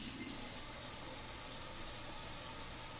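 Bell peppers are rinsed under a running kitchen tap, a steady, close, full hiss of flowing water splashing in the sink throughout, with no talk.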